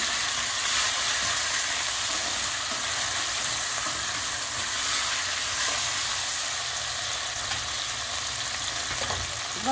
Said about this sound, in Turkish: Hepsini şöyle güzelce karıştırıyorum.